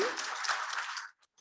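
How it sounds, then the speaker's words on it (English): Brief burst of audience applause at a community meeting, a dense patter of clapping lasting about a second at moderate distance before it quickly dies away. "So can we give a round of applause to all of them?"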